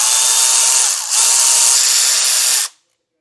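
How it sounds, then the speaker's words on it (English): An electric ratchet spins out the skid plate bolts on a 2015 Toyota 4Runner during an ARB skid plate install, giving a steady, loud whirring drone with one short dip partway through before it cuts off abruptly. "Now I'll just bring my electric ratchet and take them all the way out."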